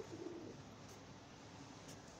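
A white lakka fancy pigeon gives a soft, low coo near the start, faint against a quiet, hissy indoor background.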